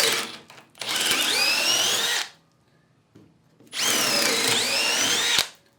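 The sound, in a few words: cordless drill with half-inch bit drilling into wood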